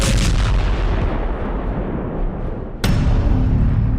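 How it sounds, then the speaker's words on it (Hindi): A bomb blast in Moscow near a Kremlin apartment gate: a heavy, rumbling explosion roars at close range, then a second sharp blast strikes and the deep rumble carries on, loud, with no voices. "वो चंद कदम चले और फिर धमाका हो गया।"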